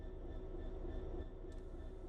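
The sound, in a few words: train starting to move in Train Sim World 3 video game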